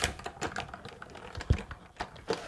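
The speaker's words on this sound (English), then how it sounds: "You hear that sound when it cuts through your paper and into your cutting plate." A manual die-cutting machine cranks paper and a magnetic cutting plate through its rollers, giving a faint, irregular series of small clicks and crunching taps with no talk.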